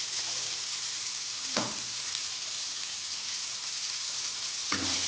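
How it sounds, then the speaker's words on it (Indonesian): Spice paste with salt, bouillon powder and palm sugar sizzles steadily in a pan while being stirred for Lombok-style ayam rarang. The frying hiss runs throughout, with two distinct scraping stir strokes. "ini diaduk lagi."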